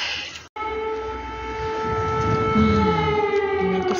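A wartime air raid civil defense siren wails in a long sustained tone, loud and steady with a brief dropout near the start, its pitch slowly sliding as it carries over the area.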